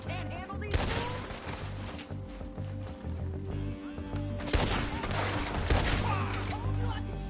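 Gunfight in the video game Red Dead Redemption 2, with a couple of loud sharp gunshot bursts standing out over continuous game noise and background music, and brief character voices in between.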